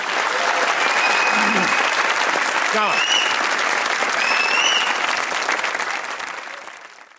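Studio audience applause on a Pakistani comedy talk show, dense and loud throughout, with whistles and a brief voice near the middle, fading toward the end.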